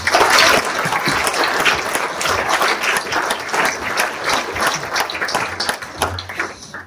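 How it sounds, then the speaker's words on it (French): Dense audience applause at a 2025 New Year wishes ceremony, many hands clapping loudly and steadily throughout, slightly fading near the end. "Je vous demande de les applaudir également."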